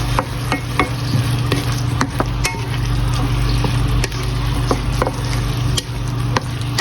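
Food is stirred with mirin in a pan, giving a steady close sizzle with frequent sharp scrapes and clicks of a utensil against the pan and a constant low hum behind.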